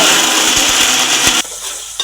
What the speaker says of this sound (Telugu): మనం ముందుగా తీసుకున్న గోంగూరని కూడా ఒక మిక్సీలో వేసుకొని